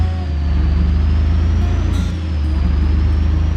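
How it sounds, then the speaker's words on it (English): A heavy truck in the BeamNG Drive driving game, its engine droning loud and steady with a low rumbling throb and a brief dip partway through, no talk. "Wow, nice truck."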